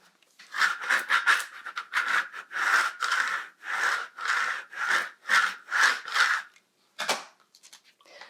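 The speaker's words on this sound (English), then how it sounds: "apply the design with my scraper." A scraper rubbed firmly back and forth to apply a vinyl design onto a candle wrap, about a dozen rhythmic scraping strokes, close and steady, then a short pause and one final stroke.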